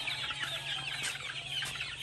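Several chickens cluck in quick, overlapping bursts, fairly close, over a low steady background hum.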